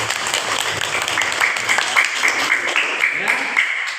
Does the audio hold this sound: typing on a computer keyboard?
no